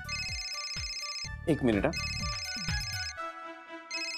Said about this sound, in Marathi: अगं त्या कॉर्पोरेटरचाच फोन आहे.